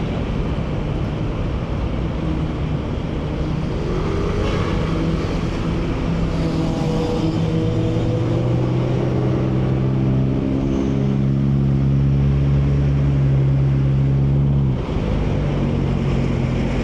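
Heavy EDSA traffic in the Philippines heard from a Yamaha Mio i125 scooter: a steady loud engine drone and road rumble that swells as nearby vehicles pass, with no voices.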